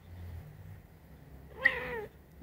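A pet cat gives a single clear meow, rising and falling, close by after a quiet stretch of faint room noise.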